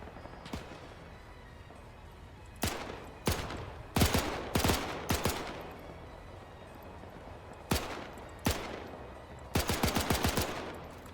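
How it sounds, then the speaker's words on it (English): Machine gun fire in the Arma 3 Iron Front WWII mod during a volcano assault: several loud, close bursts of rapid automatic shots separated by pauses, ending in a longer rattling burst, with no talk. "Is that the machine gun firing on them?"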